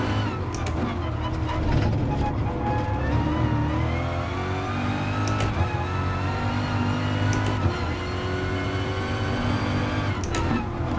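A race car engine in Gran Turismo Sport hums and revs steadily as the car drives, with rising and falling pitch through gear changes and a few sharp shifts, loud and continuous throughout.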